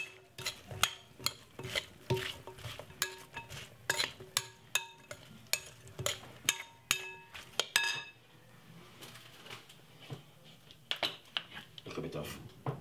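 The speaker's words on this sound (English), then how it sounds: "Let's give it a stir." A spoon stirs tomato salad dressed with lime juice in a bowl, giving repeated clinks and scrapes against the bowl in a steady rhythm for about eight seconds, then softer handling sounds.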